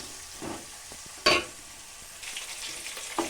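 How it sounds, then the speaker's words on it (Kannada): Curry leaves and chopped onion fry in a pan for avarekalu masala upma, soft sizzling broken by a few stirring scrapes and one sharp clatter, fairly quiet throughout. "ಕರಿ ಲೀವ್ಸು, ಆನಿಯನ್ ಹಾಕಿದ್ದೀನಿ. ಇವಾಗ ಅದು ಗೋಲ್ಡನ್ ಬ್ರೌನ್ ಕಲರ್ ಬರೋವರೆಗೂ ಹುರ್ಕೋಬೇಕು."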